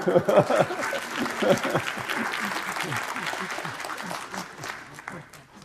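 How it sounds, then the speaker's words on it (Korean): Applause from a lecture audience at POSTECH, a warm burst of clapping that starts strong and slowly tapers off, with a speaker's voice briefly audible early on. "박수 한번"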